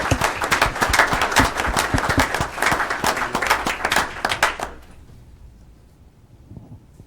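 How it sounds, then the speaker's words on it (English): An audience at a township committee meeting breaks into steady, dense applause that holds for several seconds and then fades out into a quiet room. "How about a round of applause for them?"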